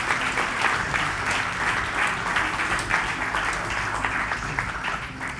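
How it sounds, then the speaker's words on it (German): An audience at a live game-show style event breaks into applause, dense continuous clapping from a crowd that stays loud and steady throughout, close and with no one speaking over it. "Einen Applaus für die beiden"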